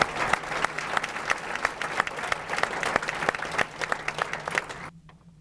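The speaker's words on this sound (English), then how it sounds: "Let's give them a round of applause." An audience at a Martin Luther King Jr. unity breakfast gives a round of applause for event sponsors, a full, even spread of clapping with sharp individual claps that stops abruptly near the end.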